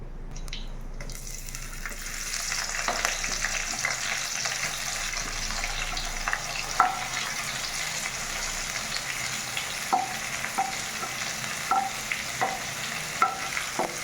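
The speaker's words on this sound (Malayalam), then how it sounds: "ഈ സബോള ഒന്ന് വഴറ്റിയിട്ട് പകുതി വേവാകുമ്പോൾ നമുക്ക് ഇഞ്ചി, മുളക്, പിന്നെ ഇടാം" Sliced onions fry in hot oil in a pan for a Kerala-style breadfruit curry, giving a steady close sizzle with occasional stirring scrapes and small clinks and no talk.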